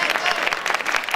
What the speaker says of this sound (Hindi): जो हंसे उनके लिए तालियां बजा दो जरा।